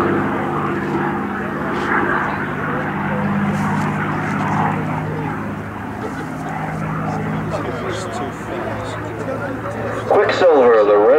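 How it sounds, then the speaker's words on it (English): A P-51D fighter plane makes a low, fast photo pass at a World War II air show, its propeller engine droning loud and steady throughout, with a brief swell of noise near the end. "He'll turn the airplane around and come back from the left once again for another photo pass."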